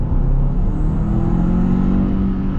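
The turbocharged engine of a 2024 Kia Sorento SX-Prestige with all-wheel drive accelerates, a loud, close, rising engine drone and rumble heard from inside the cabin.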